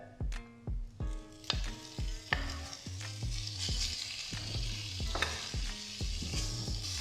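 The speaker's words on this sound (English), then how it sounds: "I'm going to come in there with our pork, and it should sizzle a little bit" Pork sizzles steadily in a hot frying pan as metal utensils clank against it in repeated, ringing knocks, the hiss growing fuller partway through.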